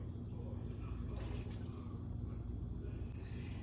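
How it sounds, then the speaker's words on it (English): Water runs into a pot of bones and chopped vegetables for homemade dog bone broth, a steady low gushing rush that holds constant throughout. "we're gonna add water to just barely cover the bones"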